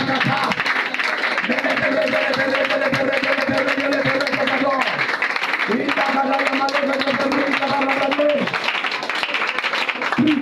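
A congregation at an evening prayer meeting claps and acclaims, with loud sustained chanting voices and continuous crowd noise running under and between the sung phrases.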